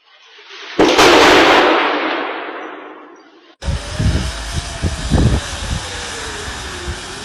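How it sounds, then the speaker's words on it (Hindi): Missiles from Iran explode over Israel. One heavy blast rolls out and fades over a few seconds, and after a brief gap a cluster of sharp, thudding bangs follows at a distance. "कई जगह ईरान की तमाम मिसाइलें धबाधप धूम धूम धूम"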